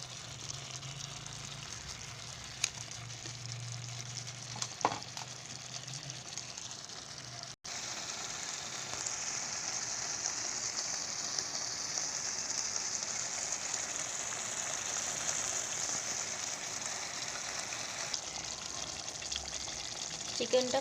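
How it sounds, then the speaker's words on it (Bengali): Chicken masala braising in a covered pan, sprinkled with dry chilli powder, gives a steady close sizzle and frying crackle that grows denser and louder partway through, with no talk over it. "চিকেনটা কষানো হচ্ছে"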